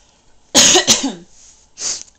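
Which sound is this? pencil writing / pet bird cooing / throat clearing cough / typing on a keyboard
throat clearing cough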